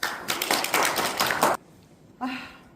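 A short burst of clapping from a small group at a meeting in Hamyang County Office lasts just over a second, then quiet, followed by a brief spoken sound.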